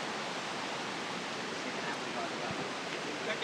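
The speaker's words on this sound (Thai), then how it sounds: "เจอลำธารแล้ว" A stream flows near Mae Klang waterfall, a steady soft rushing of water that stays even and quiet throughout with no voices over it.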